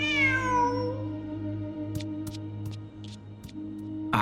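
A cat meows in the video game Genshin Impact, one clear drawn-out call near the start over a steady game music bed, followed by soft chimes and faint clicks.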